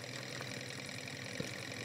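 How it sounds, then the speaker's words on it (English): A small spirit-fired model steam engine running flat out with no throttle, a steady quiet rapid chugging hum held evenly throughout. "It takes only a moment to heat up inside this firebox here. It runs with very much ease."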